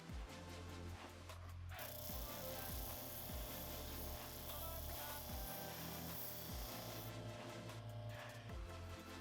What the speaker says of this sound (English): I think this sanding drum could work pretty well.